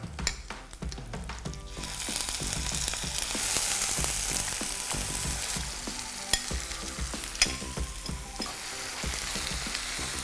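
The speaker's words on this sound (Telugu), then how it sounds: "కట్ చేసి పెట్టుకున్న ఈ పొడవు సన్నని మిర్చి అండ్ కరివేపాకు. ఇప్పుడు వీటిని మంచిగా మిక్స్ చేసుకుందాం." Cumin, green chillies and curry leaves frying and being stirred in a pan for an egg curry, a steady loud sizzle with a quick burst of spatula clatter at the start and occasional scrapes throughout, no talk.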